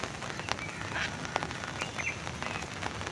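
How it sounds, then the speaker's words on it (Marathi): Light rain falls steadily among trees at an outdoor viewpoint in Kalyan, a soft, even hiss with faint scattered drops and occasional bird chirps. "बघू शकता मस्त पाऊस पण चालू आहे, हलका हलका भिजायला पण लागले"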